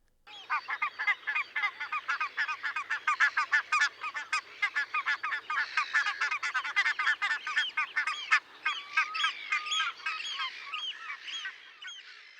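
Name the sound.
barnacle goose calls overlapping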